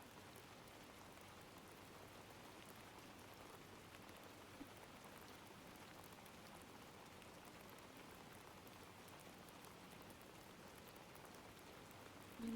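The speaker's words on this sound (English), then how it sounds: "Do we enjoy the rain sounds, chat?" Steady rain falls without pause, an even, dense hiss of drops on surfaces, quiet and unchanging throughout, with no talk over it.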